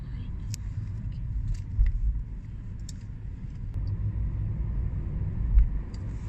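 Inside a car on the road, a continuous low engine and road rumble fills the cabin, with a couple of soft bumps and faint clicks, steady and close throughout.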